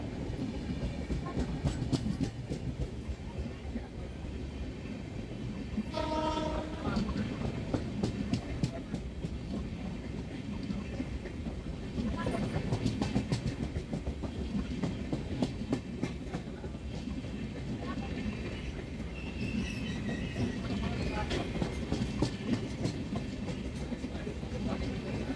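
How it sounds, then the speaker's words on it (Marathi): The Ernakulam–Okha express crosses at Bhoke station during a monsoon journey, giving a continuous low rumble with repeated rhythmic wheel clatter. It is moderately faint and steady throughout, with a brief tonal squeal or horn-like note partway through. "ही आहे एर्नाकुलम ओखा, हिची क्रॉसिंग भोकेला झाली आहे"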